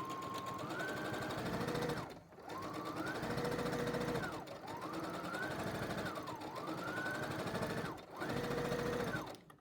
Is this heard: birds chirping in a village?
no